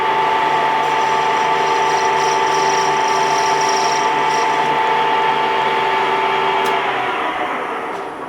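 Steady, loud whine of a lathe taking the edge off a piston rod for a 7 1/4 inch gauge engine, holding an even tone with no talk before fading at the end.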